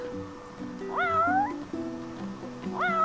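A cat in Final Fantasy XV lets out two clear, rising meows, one early and one at the end, over a soft melodic game tune.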